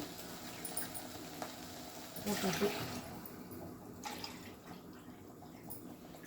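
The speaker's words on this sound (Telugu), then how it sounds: "టమాటాలు ఉడకబెట్టుకున్న నీళ్ళు పోస్తున్నాను" Water left from boiling tomatoes pours into a pot in a short gushing burst in the middle, then trickles and splashes lightly, with a steady background of room noise.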